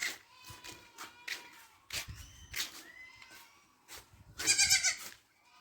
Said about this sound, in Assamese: এইটো হ'ল মোৰ ছাগলী গঁৰাল।